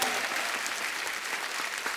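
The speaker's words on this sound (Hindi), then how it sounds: "जोरदार तालियां हमारे मेहमानों के लिए" Loud, dense studio audience applause at the Kapil Show comedy set welcomes guests, a steady roar of clapping with faint voices mixed in.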